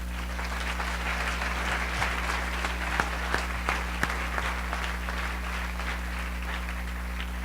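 A church congregation applauds at a Spanish-language service, sustained crowd clapping with a few sharper individual claps standing out, steady and moderately loud over a constant low electrical hum, with no speech on top.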